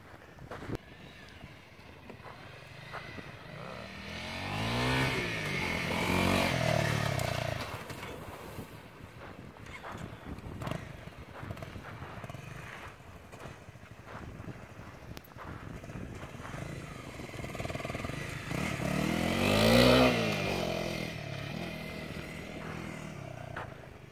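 Honda CRF 250 Rally motorcycle riding off-road, its engine revving up and down in two broad swells over continuous wind and road rumble, close and moderately loud.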